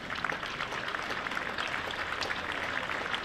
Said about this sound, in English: a lovely round of applause around Hove for Cheteshwar Pujara